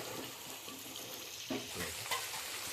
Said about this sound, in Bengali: এবার হলুদ দিচ্ছি একটু, তারপর লঙ্কা, দিয়ে একটু নেড়ে নিচ্ছি